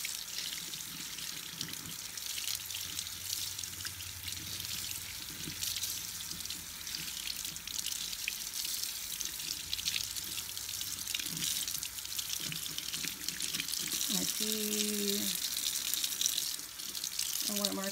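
Tap water runs steadily over a Breyer model horse being rinsed in a sink, a continuous close splashing wash that carries on throughout with no talking.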